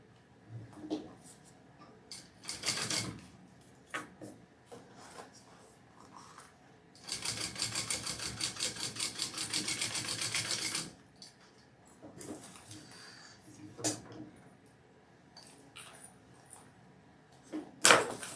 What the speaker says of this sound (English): So I'm going to top stitch this other side.